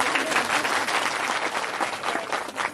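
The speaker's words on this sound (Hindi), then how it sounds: "इन सज्जनों के लिए ताली तो बजा दो।" Audience at an open-air Shrimad Bhagavat katha in Sundernagar, Mandi, claps in a dense, steady burst of applause lasting the whole stretch, loud and continuous with no speech over it.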